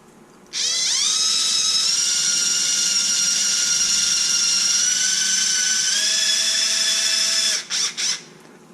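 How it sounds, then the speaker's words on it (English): Small power drill driving screws into an RC car chassis, a loud high whine that spins up, holds steady for several seconds, then stops with a couple of short final bursts. "I'll use my little drill"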